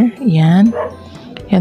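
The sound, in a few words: dog barking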